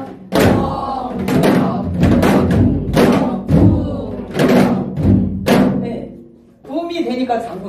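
A janggu, the Korean hourglass drum, plays the gutgeori rhythm in dense, rhythmic strikes, with a brief pause before the drumming resumes more softly.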